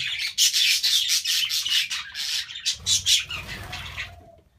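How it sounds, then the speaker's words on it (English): A pair of budgies in an aviary chirps in rapid, close, bright bursts, one call after another with brief gaps, fading out at the end. "And something else I got new is a pair of budgies."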